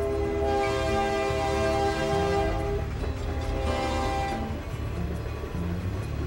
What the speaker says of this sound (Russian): Это крупнейшая в мире частная сельскохозяйственная железная дорога.